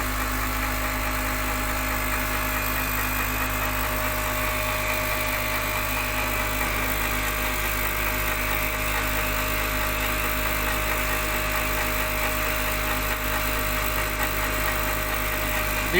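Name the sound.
lab machine rotating at 3000 RPM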